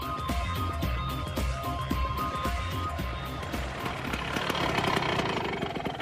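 A motorised snowboard's engine runs steadily at close range, a continuous mid-pitched drone with rough, knocking pulses throughout.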